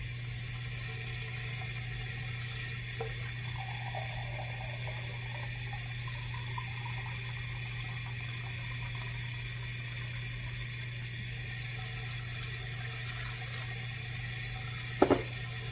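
Water runs steadily from a kitchen tap into a measuring cup, a continuous even stream at moderate level with no talk, ending in a brief clink near the close.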